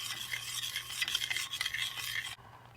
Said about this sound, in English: stirring it till it comes to a boil.